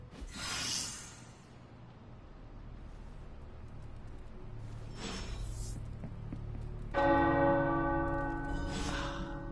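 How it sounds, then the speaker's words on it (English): Tower bells ring in the video game Marvel Midnight Suns, a loud burst of bright, sustained ringing tones that sets in partway through and hangs over a low ambient hum, with earlier softer chimes. "The tower bells are ringing."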